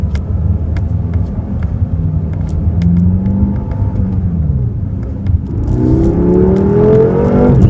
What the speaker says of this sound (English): Love the sound from that V8 twin turbo engine.